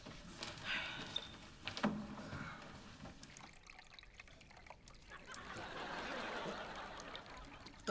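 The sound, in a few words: indoor waterfall running in a bedroom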